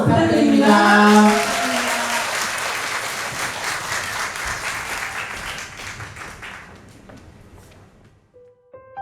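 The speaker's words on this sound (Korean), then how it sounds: "큰 박수 부탁드립니다" Audience at a Korean culture and arts troupe's concert opening breaks into loud applause that swells right after a brief voice, then slowly thins and fades toward the end.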